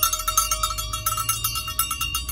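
A bell mounted on a car and used in place of a horn rings in a rapid, steady clatter of bright metallic strikes, loud and close over a low engine or road rumble.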